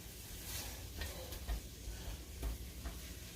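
Onion sautéing in a pan over medium heat for a low-carb Zuppa Toscana, a soft steady sizzle with a few stirring scrapes, close and moderately quiet, with no talk.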